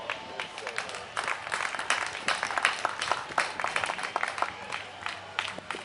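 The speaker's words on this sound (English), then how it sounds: "give Raymond a round of applause" An audience at a town festivity outdoors claps, a scattered moderate applause with individual claps standing out, rising in the middle and continuing unevenly.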